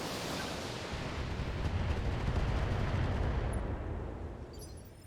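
A mech in the Battletech video game fires every weapon at once: a dense, sustained barrage of blasts and gunfire that swells over several seconds, then tapers off with faint electronic tones at the end.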